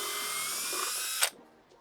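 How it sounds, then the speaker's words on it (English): A power drill bores out a pilot hole in the floor of a Sprinter van with a steady, loud, bright grinding whine, then cuts off abruptly, leaving a faint rattle. "with my pilot hole, I'm going to drill this all the way out."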